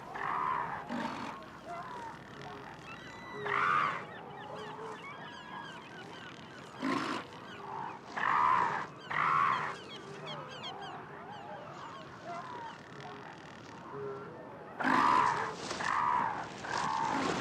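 Deep, guttural roaring calls from several large seals, loud and close, repeated in bursts with short pauses, some overlapping into a honking chorus.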